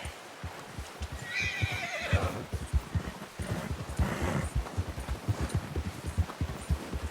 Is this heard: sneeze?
no